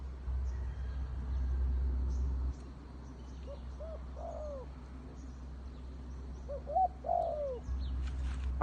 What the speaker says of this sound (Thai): นี่นกบ่าว ไล่คู่กันอยู่